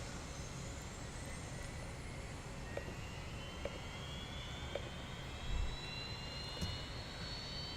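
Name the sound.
A320 jet engine spooling up in X-Plane video game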